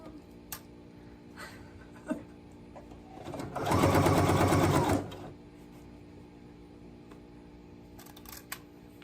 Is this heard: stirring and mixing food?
no